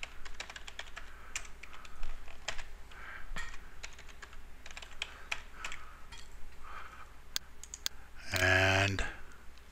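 Someone types a password on a computer keyboard while setting up a virtual machine: irregular close clicks and key taps, with a burst of rapid keystrokes near the end.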